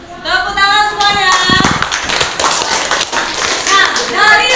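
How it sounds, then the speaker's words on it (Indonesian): Sixth-grade students in an Indonesian-language class clap their hands after a speech, a busy, fairly loud patter of claps mixed with children's chatter and voices throughout. "Tepuk tangan semuanya"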